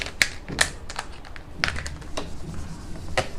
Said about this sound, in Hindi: ब्लैक से लिखता हूँ